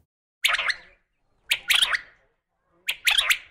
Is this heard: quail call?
yes